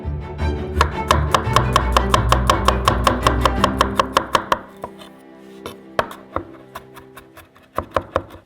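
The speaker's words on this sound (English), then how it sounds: "Chop just 1 clove of garlic." A kitchen knife chopping a single clove of garlic on a board, rapid even strokes at first, then slower, sparser chops after a brief pause, close and crisp.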